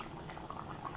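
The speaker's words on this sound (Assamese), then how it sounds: "এতিয়া অকণমান আৰু উতলিব দিম" Fish curry simmering in a pot, a faint, low bubbling and soft liquid burble that holds steady and close for a brief moment, with no voices.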